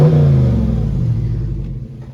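A Dodge Charger Scat Pack Daytona with its 6.4 Hemi engine revving, a deep loud rumble that swells at first and then settles into a steady, slowly fading growl.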